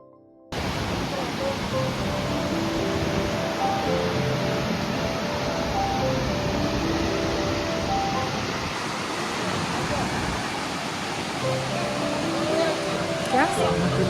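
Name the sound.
Jung waterfall roaring up close, Arunachal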